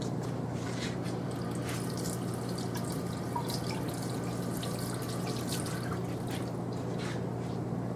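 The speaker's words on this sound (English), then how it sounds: "we're going to quickly rinse this off like we did with the green lube mat" Tap water running steadily over a polished grinding sample, a continuous hiss and splash with small drips, close and moderately quiet.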